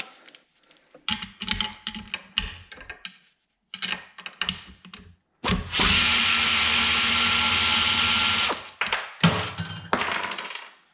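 An Aircat 1/4-inch air ratchet spins a socket fitted with an adapter, with short bursts of clicking and ratcheting followed by a sustained loud whirring run of about three seconds, then more brief bursts.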